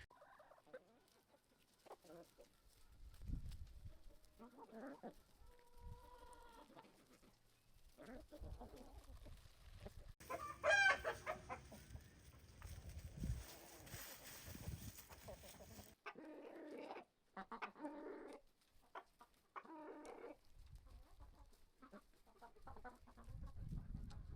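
Chickens cluck and murmur softly nearby in intermittent bursts outside their chicken house on a farm, with quiet scratching and outdoor background.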